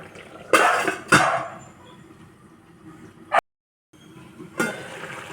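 A metal lid is set down onto a pan of mussel roast on the stove, giving two sharp clattering knocks close by, followed by quieter kitchen handling and a final clink.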